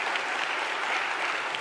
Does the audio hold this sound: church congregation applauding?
yes